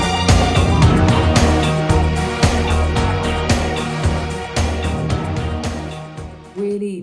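A song plays loud and full, sweeping strings layered over a clunky, rhythmic synth line and pounding beat, ending in a brief sustained tone.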